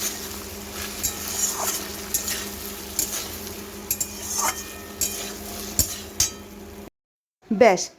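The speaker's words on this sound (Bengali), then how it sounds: "আমার এই ভেজে রাখা চিকেনগুলো আমি দিয়ে দেবো সুন্দর করে সাথে মিশিয়ে নেব" Previously fried chicken pieces being stirred and mixed in a pan, giving a steady sizzle with repeated scraping clinks of a utensil, then a brief clatter near the end after a short silence.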